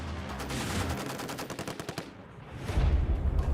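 Marines on a live-fire range shooting the M240 7.62 mm machine gun, a rapid string of sharp reports in a fast even rhythm, loud and outdoors, followed by a heavier rumbling burst.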